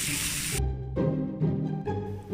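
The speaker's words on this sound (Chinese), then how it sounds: "我们就可以把这个杏鲍菇一片一片的放上去，让它煎" King oyster mushroom slices pan-frying in hot sesame oil, a soft steady sizzle with a few bumps and clatters as pieces are laid in the pan one by one, close up and without talk.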